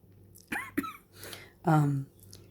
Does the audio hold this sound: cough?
yes